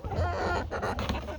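Backyard chickens cluck steadily and closely as feed is dropped into their pen, a dense, continuous flock chatter with no talk over it.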